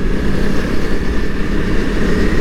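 A Honda CRF250L motorcycle engine holds high revs around 5,000-6,000 rpm with slight vibration, a steady, loud, continuous drone that stays close and dense throughout with no speech over it.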